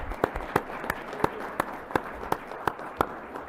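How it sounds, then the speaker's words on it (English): Sparse, slow clapping at a public hearing with Arizona legislators, a handful of distinct claps spaced irregularly against a quiet room. "give a round of applause to everybody who spoke and testified today"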